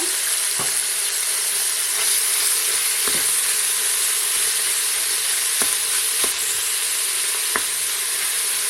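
Small pieces of beef and fat sizzle steadily in a hot pan for beef in beer, a loud continuous hiss broken by a few sharp clicks of the utensil against the pan.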